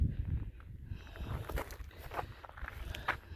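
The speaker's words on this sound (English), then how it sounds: "This is like round, crushed rock that just rolls right under your feet." Footsteps crunch over loose, round crushed rock that rolls underfoot, a string of faint, close, irregular steps outdoors with no talking.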